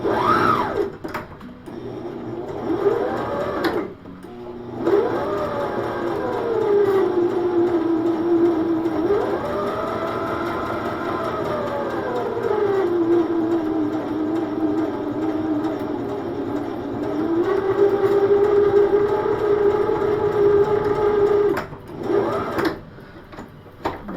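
A sewing machine stitches fabric pieces face to face for a passport case, its motor whining in long runs that rise and fall in pitch as speed changes, with short pauses between bursts, close and loud.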